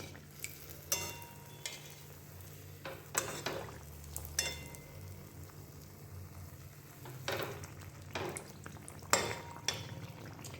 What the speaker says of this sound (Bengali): এটা আস্তে আস্তে ভাজতে হবে লো ফ্লেমে, তাহলে ভেতর পর্যন্ত ভাজা হবে